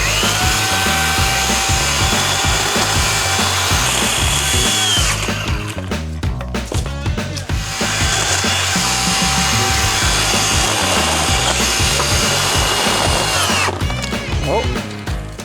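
A loud, continuous battery chainsaw snarls through wood nearby, its pitch dropping under load and briefly stuttering before revving up again.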